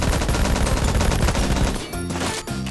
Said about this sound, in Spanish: por aquí se están dando balazos